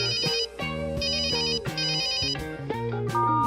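A melodic phone ringtone plays loud and close, its repeating electronic tune with bright high tones continuing without pause for several seconds.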